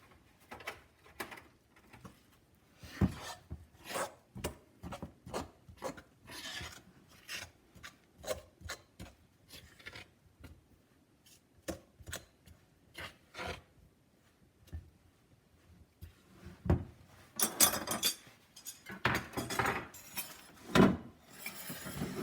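Homemade biscuit dough being mixed by hand in a bowl, a series of rasping, scraping strokes that come in irregular bursts, with denser, louder scraping near the end and no talking.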